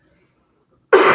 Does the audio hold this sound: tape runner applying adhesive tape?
no